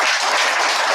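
Dense, sustained applause from a congregation at a Korean church gathering, a steady wash of clapping that fills the whole moment with no voices over it.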